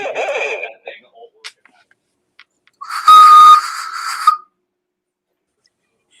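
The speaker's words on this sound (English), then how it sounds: "I've been mastering the craft of the slide whistle" A slide whistle plays a loud, sustained tone for about a second and a half, ending with a short glide, preceded by scattered bits of conversation and a few faint knocks.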